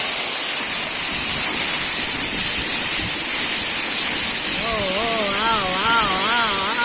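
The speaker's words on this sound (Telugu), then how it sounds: "పైన అయితే ఈ విధంగా అయితే వాటర్ పారుతుంటుందండి." Water pours from height down a small forest waterfall among green bushes, making a constant near rushing noise. A wavering tonal call joins over it toward the end.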